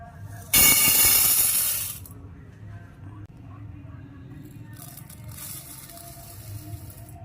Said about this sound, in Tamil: தண்ணி ஊற்றி ஊற வச்சு